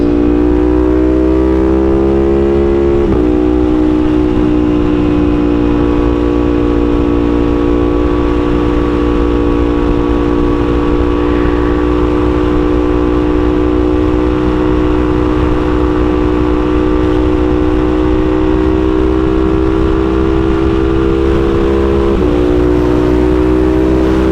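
A Ducati Panigale V4 accelerates hard on a road behind traffic, giving a loud, sustained engine drone whose pitch climbs steadily, with gear shifts near the start and end, heard from the rider's position.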